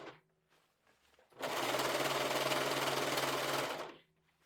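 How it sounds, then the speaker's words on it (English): A sewing machine stitches a gathered skirt onto a vintage formal dress in one loud, steady run of about two and a half seconds, with quiet moments before and after. "We go over to the sewing machine and we sew the skirt in."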